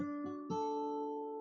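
Guitar plays major triads in the second pattern on the bottom three strings, three quick chord attacks in succession with the last one sustaining and slowly decaying; no speech.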